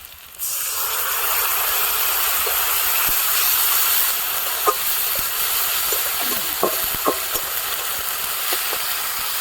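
Ground ginger paste hitting deeply browned onions in hot oil sets off a loud, steady sizzle and hiss, with occasional spoon taps and stirring scrapes, no talking.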